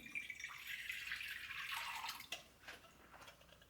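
Warm tap water pours steadily into a bowl for a few seconds, a close, hissing splash that thins into a few drips at the end.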